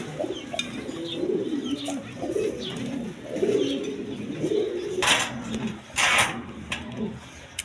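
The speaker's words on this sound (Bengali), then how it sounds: "এখানে এক পেয়ার লাহোরি কবুতর আছে, ইউ শেপের লাহোরি কবুতর।" A pair of U-shaped Lahori pigeons, a male and a female, coo in repeated low, throaty phrases close by, with a couple of sharp rustling bursts near the end.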